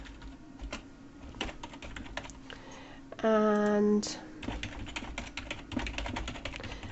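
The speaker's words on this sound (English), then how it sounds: "I'm sorry if my typing is really loud." Typing on a computer keyboard while setting up an online shopping account, with close, quick irregular clicks picked up loudly by the microphone; a short steady tone interrupts briefly midway.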